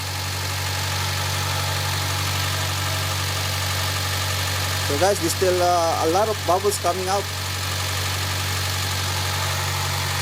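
A 2007 Mitsubishi Lancer engine idling after a radiator installation, a steady low hum running the whole time while someone talks briefly partway through.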